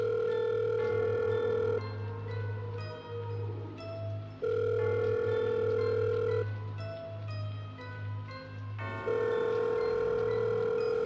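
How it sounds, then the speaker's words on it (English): A telephone rings in repeated long tones, three or four rings separated by brief gaps, steady and fairly loud over a low hum. "The phone rang several times."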